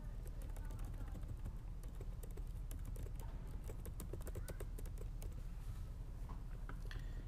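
Keys on a computer keyboard are pressed in quick, irregular bursts of close, crisp clicks, with one firmer stroke for Enter, while a voice talks quietly underneath.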